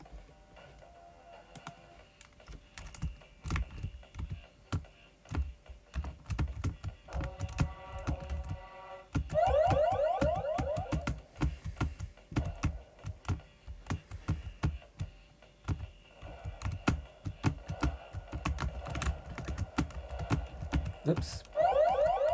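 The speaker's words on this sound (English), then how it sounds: "I'm playing it with the keyboard." Computer keyboard keys clatter in quick, irregular bursts while playing the arcade shooter Chromium B.S.U., mixed with synthetic game tones and siren-like warbles that rise and fall across the stretch.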